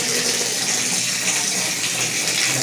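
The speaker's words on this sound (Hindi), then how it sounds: "हमारे पानी की बाल्टी तो भर गई है" Water gushes steadily into a bucket outdoors, a dense, continuous hissing splash at moderate loudness with no voices.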